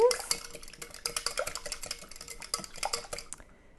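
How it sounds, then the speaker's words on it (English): Heavy cream or coconut milk being whisked in a bowl, a rapid run of close, clattery metal taps and scrapes that tails off toward the end. "So heavy cream or coconut milk. Give that a whisk."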